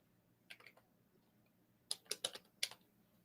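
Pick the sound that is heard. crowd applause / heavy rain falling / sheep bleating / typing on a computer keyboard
typing on a computer keyboard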